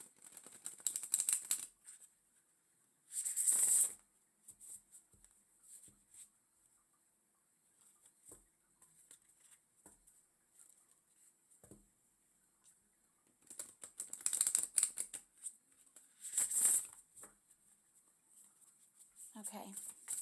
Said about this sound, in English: Okay, I'm going to go ahead and shuffle these